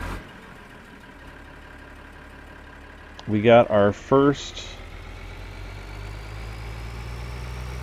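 Tractor engine idling steadily in Farming Simulator 2013, towing a seeder and fertilizer combo, a low continuous drone throughout with someone talking briefly over it partway through.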